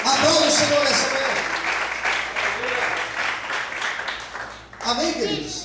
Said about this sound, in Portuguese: Aplauda o Senhor nessa manhã